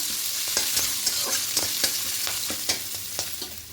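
Green peas fry lightly in a hot pan with a steady sizzle, while a utensil scrapes and stirs in regular, close, short strokes, and no one speaks.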